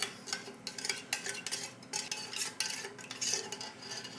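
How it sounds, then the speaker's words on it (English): A spoon stirring MRE drink mix in a container, quick, irregular clinks and scrapes repeating over a few seconds, close and fairly quiet. "Give it a stir."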